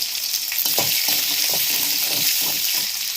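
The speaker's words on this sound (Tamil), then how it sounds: "இதை இது மாதிரி நல்லா வதக்கி விட்டுக்கோங்க" Ginger and mint sauté in a pan for mint chutney, giving a steady, loud, close sizzle with soft stirring scrapes repeating throughout.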